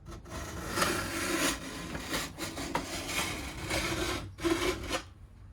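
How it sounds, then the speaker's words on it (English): Steady back-and-forth rasping of a file on the steel edges of new skis, repeated strokes close up and fairly quiet, with short pauses between passes. "So push this file against the side edge and the other part of the angle against the base"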